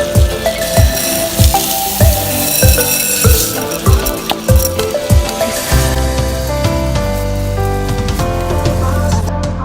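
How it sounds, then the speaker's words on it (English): Rinsed rice being added and stirred into a skillet of melted butter and ketchup, giving a steady sizzle with rhythmic scraping stirs, over music with a strong beat. "Once the butter melts, add the rinsed rice to the skillet."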